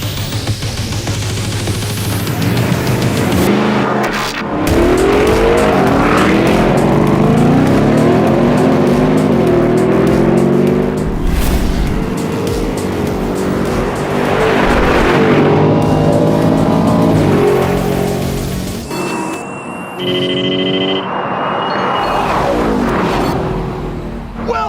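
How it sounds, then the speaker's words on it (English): A Mercedes-AMG G-Wagon, Ford Raptor and Lamborghini Urus launch in a drag race, loud engines roaring and revving up through the gears with sweeping pitch climbs, brief tire noise and a pass-by near the end. "The Mercedes front end gets light on the launch, but the longer wheelbase Raptor just leaves the AMG for dead, hitting 60 a third of a second sooner."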